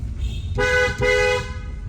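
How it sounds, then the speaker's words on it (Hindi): Two loud honks from an aftermarket horn on a Kia Sonet, a longer blast then a shorter one, close by, over a low engine rumble. "अभी आपको हॉर्न सुनाते हैं।"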